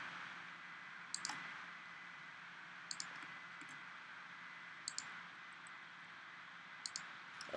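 Sharp computer mouse clicks while drawing in AutoCAD, coming in small clusters of two or three quick clicks spaced a couple of seconds apart over a faint steady hum, close and quiet.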